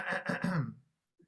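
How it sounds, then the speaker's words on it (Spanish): A brief, close throat clearing from an elderly adult with swallowing difficulty, a few rough guttural pulses, followed by a faint short grunt after a pause. "Está carraspeando seguramente."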